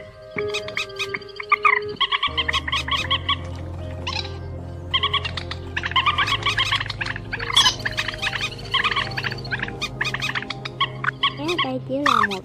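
A trapping lure recording of purple swamphen and crake calls: dense, overlapping bird cries, honks and rapid chattering notes over a steady low droning layer, looping continuously and loudly for the whole stretch.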